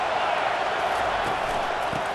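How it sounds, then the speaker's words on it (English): Dense stadium crowd roar from EA Sports College Football 25, Fresno State at Michigan, a steady loud wash of voices with faint thumps beneath. "This crowd trying to make life miserable for this offense."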